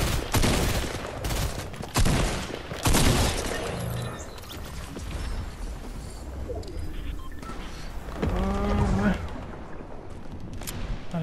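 Gunfire in the battle royale game Fortnite, bursts of sharp shots and rattling volleys over a few seconds, fading to scattered distant fire, with players talking over much of it.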